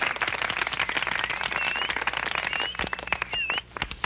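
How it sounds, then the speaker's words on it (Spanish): An audience at a children's show applauds, dense lively clapping that builds and then thins into scattered claps near the end, with no talking over it. "Vamos a darle un fuerte aplauso para que baile."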